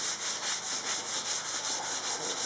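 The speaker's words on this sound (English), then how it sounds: "What I'm doing here is burnishing it" Rhythmic rubbing strokes as wood shavings burnish a custom cove molding, about a dozen even back-and-forth passes, close and steady, with no talking.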